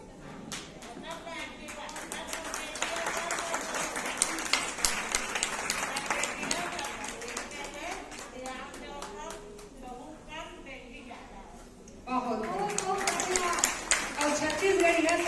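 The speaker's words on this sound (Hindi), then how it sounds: "जोरदार ताली हो जाए हमारी माँ" Audience clapping at a women's honour ceremony in Bhatapara, Chhattisgarh, sustained applause from a hall crowd that thins midway and then swells again, with a voice talking over it at times.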